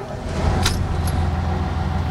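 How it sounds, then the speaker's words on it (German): A 65-tonne, 320 hp excavator's diesel engine turns over and settles into a steady low rumbling idle, with a brief metallic jingle of keys near the start. "seinen größten Bagger bereitgestellt, 65 Tonnen, 320 PS, und die wollen wir jetzt erstmal hören"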